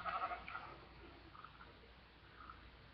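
A sheep in the Minecraft video game gives a short burst of bleats at the start, then only faint low game ambience continues with no other clear sounds.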